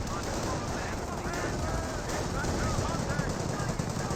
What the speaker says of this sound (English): Mortar half-track now receiving fire from this Bren carrier.